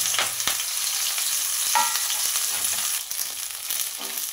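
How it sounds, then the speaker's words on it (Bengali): Ridge gourd dropping into hot oil in a kadai sets off a steady broadband sizzle with scraping stirs, close and fairly loud, briefly dipping then resuming. "এই তেলের মধ্যে ঝিঙ্গাটা দিয়ে দেব।"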